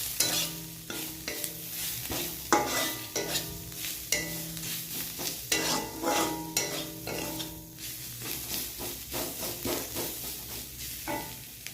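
Garlic, ginger, coriander powder and cumin powder fry in oil for a fish roe curry while a spoon stirs them briskly, scraping the pan in irregular strokes over a close, steady sizzle.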